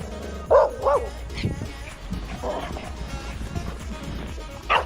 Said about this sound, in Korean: 창고집 댕댕이가 왈왈거리는 현장을 우연한 표정으로 넘어갑니다.